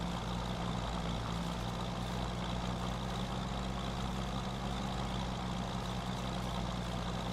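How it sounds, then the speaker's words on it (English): A tractor engine runs steadily in Farming Simulator 25, a continuous deep gargling rumble with an even drone, loud and constant throughout with no talk. "the whole sound of these tractors is amazing"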